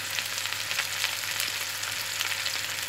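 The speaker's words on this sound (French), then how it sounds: "Voici dans la poêle de l'huile les courgettes coupées en rondelles avec du sel, du poivre." Rounds of sliced courgette seasoned with salt and pepper sizzle in oil in a frying pan, a steady close crackle and hiss with no talking.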